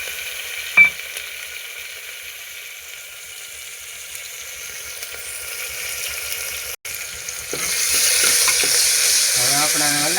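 Asafoetida, chili and tomato tempering in oil in a pan, a soft steady sizzle that swells louder near the end as more goes in, with a brief clatter early on.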